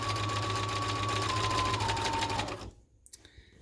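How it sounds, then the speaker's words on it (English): Steady, close whirring of a sewing machine running a stitch along the hem edge of a scrub hat, holding for over two seconds and then stopping, followed by faint clicks. "So I will just run a stitch really close to the edge of that."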